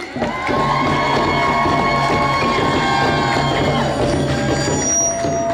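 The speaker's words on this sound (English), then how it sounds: "the next group a nice round of applause" An audience at a Cambodian New Year celebration applauds and cheers, a loud, close crowd of clapping with whoops and shouts sustained throughout.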